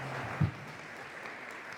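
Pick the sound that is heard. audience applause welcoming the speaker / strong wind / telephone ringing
audience applause welcoming the speaker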